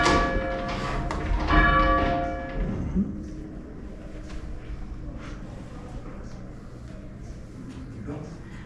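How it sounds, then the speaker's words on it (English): A tenor church bell swinging in its tower strikes loudly at the start and leaves a long ringing hum that fades, followed by quieter thumps and indistinct voices in the room. "Can you see the rope swinging? That's because that bell's swinging."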